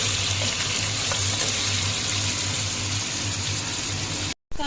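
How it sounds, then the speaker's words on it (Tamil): Mutton paya cooks with ginger, garlic and green chilli in hot oil, a steady close sizzle and stirring that runs unbroken before cutting off abruptly near the end. "இப்போ நல்லா ஃப்ரை பண்ணிக்கலாம்."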